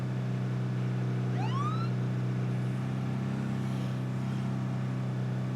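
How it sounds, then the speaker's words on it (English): A police car siren in a video game wails in a short rising sweep early on, over a steady low engine drone that runs throughout, with no talk. "You like that siren way too much."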